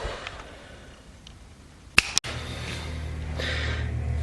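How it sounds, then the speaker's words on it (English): Two sharp, close finger snaps about a fifth of a second apart ring out in a quiet garage during a Ford Pinto turbo T5 transmission swap, with low background hum before and after. "I'm gonna snap my fingers."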